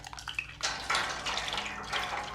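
Water is poured over garlic in a short splashing burst, a close, gurgling stream that rises and briefly stops before pouring again.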